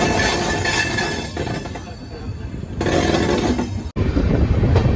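Chandigarh Madurai Superfast Express train pulling out of platform 3 at Saharanpur station, a loud steady rumble of rolling wagons that swells and continues with rattling, no talk.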